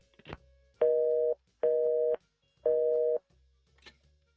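Telephone hang-up busy tone in a video game: three evenly spaced steady beeps, each about half a second long, framed by faint clicks from the handset, with no voices.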